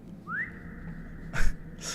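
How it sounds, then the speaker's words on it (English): A horse whistle from The Lord of the Rings Online gives a short rising whistle that settles into a steady held tone, and two brief bursts of noise follow. It sounds fairly close and quiet over low game ambience. "that's a temporary horse whistle"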